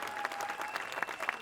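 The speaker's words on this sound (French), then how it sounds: "Bah super, on m'applaudit pour ça." Audience applause at a music-and-comedy stage show, a steady wash of clapping from a crowd, moderately loud and continuous for a short burst.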